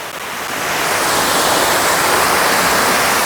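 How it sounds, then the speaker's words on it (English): A loud, steady rush of a waterfall roars close by at Entopia Butterfly Farm, Penang, Malaysia, a dense hiss that swells in the first moment and then holds constant with no voices. "The sound of waterfall is really loud."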